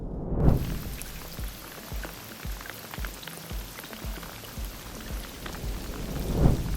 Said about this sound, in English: Pouring rain today.